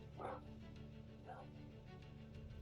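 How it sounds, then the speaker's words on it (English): A small dog yips twice somewhere in the background, faint and distant behind a steady room hum, about a second apart. "Excuse my dog in the background if you can hear him."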